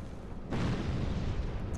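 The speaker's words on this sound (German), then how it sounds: "Was explodiert hier bitte?" A sudden deep boom bursts in and rumbles on as a loud, sustained roar, an explosion in Dark Souls II: Scholar of the First Sin, with no speech.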